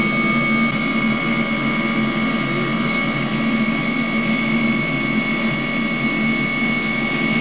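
A commercial airplane's engines roar steadily and loudly during takeoff on the runway, a constant whine with no letup.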